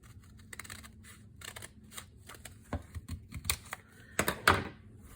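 Scissors snipping through a page of a paper notepad, a run of crisp, close cuts and rustles of handled paper at a quiet level, growing busier and louder toward the end.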